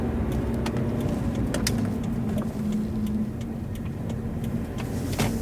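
A car drives along an otherwise empty road, its engine hum and tyre noise steady and close throughout, with a few faint clicks and ticks over the constant drone.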